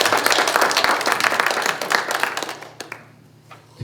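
An audience at a prayer breakfast marking Yonsei University's 137th anniversary bursts into dense, loud applause that holds for a few seconds and then tapers off to scattered claps and quiet.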